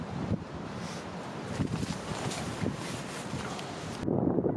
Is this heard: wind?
yes